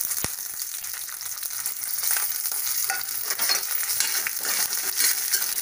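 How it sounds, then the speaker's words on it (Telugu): Tempering spices and cashews frying in oil in a pan for idli upma, a continuous bright sizzle with scattered crackles and light stirring scrapes, close and with no talk. "తాలింపు దినుసులు కూడా వేసేస్తున్నాం."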